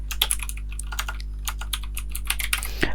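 A word typed on a computer keyboard, a quick close run of crisp key clicks in uneven bursts over about three seconds, with no talking.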